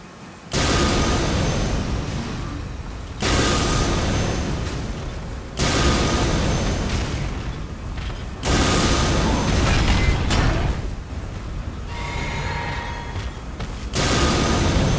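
A weapon art attack in the Elden Ring game with the Convergence mod unleashes a series of roaring, booming blasts, each sustained for a couple of seconds with brief gaps between, loud and dense, with no talking.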